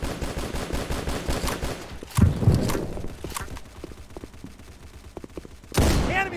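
Gunfire from multiple weapons crackles through a firefight in the shooter Unit: Classified. Dense overlapping shots are broken by louder close bursts, and footsteps and battle noise run underneath.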